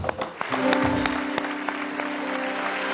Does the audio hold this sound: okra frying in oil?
no